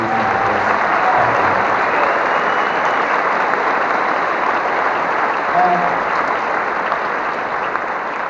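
A concert hall audience applauds after a choir performance, the clapping loud, dense and continuous throughout.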